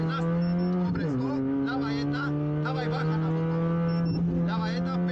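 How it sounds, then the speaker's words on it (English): Onboard a rally car on a night stage of Rallye Kroměříž, the engine holds a loud, sustained high-revving drone, drops briefly at a quick gear change, then winds out again, close and continuous throughout. "It's got that engine winding out on this car."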